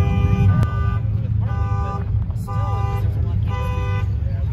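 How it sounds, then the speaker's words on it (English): A Jeep's car alarm going off in an outdoor parking area at an off-road event, a repeating pulsed electronic tone sounding in bursts at moderate distance over background noise. "Jeep with the alarm on."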